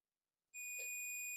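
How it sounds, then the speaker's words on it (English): A multimeter gives one steady high-pitched continuity beep, switched on abruptly and held, while its probes test pads on a retro Sound Blaster AWE64 sound card; the tone is faint and clean, with no voices. "Okay, we got a beep."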